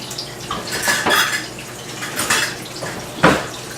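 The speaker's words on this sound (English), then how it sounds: "scrape the bottom, scrape the rest of this in here with a cake spatula." A cake spatula scrapes a pan while cooking eggplant sauce for pasta, giving a series of irregular clinks and scrapes of metal with a sharper knock near the end, and no talk.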